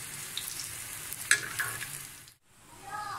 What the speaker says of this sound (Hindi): ये देखें, हमारे कबाब फ्राई हो रहे हैं